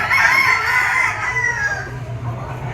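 A bull stag rooster crows once, loud and close, a drawn-out strained call that fades toward the end over a low background murmur.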